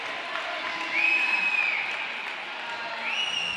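Spectators at a roller derby bout between Argentina and Australia cheering and applauding, a broad crowd wash in the background with whistles or tonal squeals rising above it.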